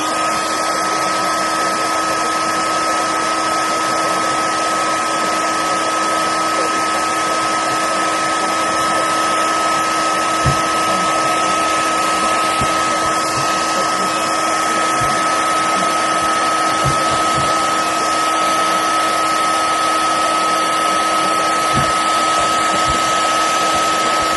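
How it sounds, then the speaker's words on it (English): A hairdryer blows hot air onto wax rubbed into canvas for an anorak, a loud, steady whine with a constant hum that runs unbroken the whole time, with a few faint knocks and handling sounds beneath it. "I'll get a hairdryer and we'll see what that does."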